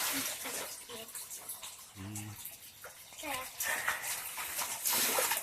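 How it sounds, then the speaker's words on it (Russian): Running water pours steadily into a filling tub, a continuous rushing hiss beneath scattered voices talking over it. "вода набирается вот это"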